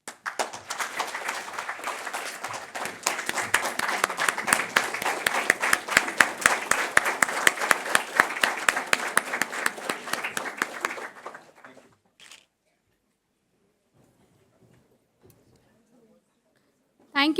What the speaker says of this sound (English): a standing round of applause for all of you